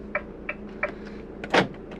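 A few short mechanical clicks spaced evenly, then a louder clunk, as the cab door locks engage inside an Auto-Trail Expedition C71 motorhome, close by.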